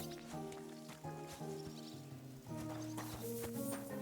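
Horses in the medieval open-world game Kingdom Come: Deliverance II, with hooves clip-clopping at a steady walking pace near the listener and a layered game soundscape behind them.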